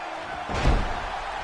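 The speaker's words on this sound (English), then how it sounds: "Slamming Ring Boy down to the mat with that arm bar" In a wrestling video game, a wrestler is slammed down onto the ring mat: a single heavy thud with a low boom, set against a steady wash of crowd noise.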